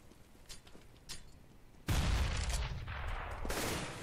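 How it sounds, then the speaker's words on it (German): Counter-Strike gunfire on de_nuke in a professional match, a few faint shots early, then a sudden loud sustained burst of rifle and shotgun fire that stays dense to the end. "Nette Pumpen-Action von Fofkin. Aber keine Chance gegen Crystal da mit der AK"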